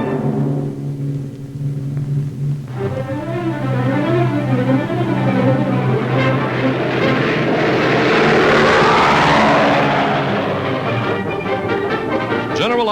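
WWII-era propeller aircraft carrying wounded soldiers over Tunisia, a loud, steady engine drone with a wavering pitch that swells slightly as it passes close, heard alone throughout.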